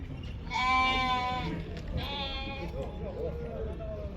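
Sheep and goats at a livestock market in Kyzylorda: two loud, close bleats in quick succession over crowd murmur, with fainter animal calls after, and people talking nearby.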